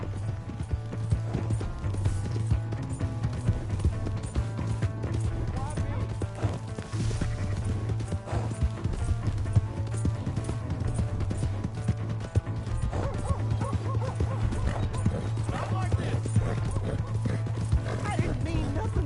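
Horse hooves clip-clopping at speed in the video game Red Dead Redemption 2, a steady drumming gallop under game dialogue, with occasional whinnies and crashes in a busy mix.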